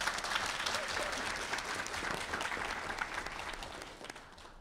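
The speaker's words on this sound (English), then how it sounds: "So a big round of applause to them again." Audience applause for the judges at the Baylor Law moot court final, a dense, steady clapping from a room full of people that holds for several seconds before thinning out toward the end.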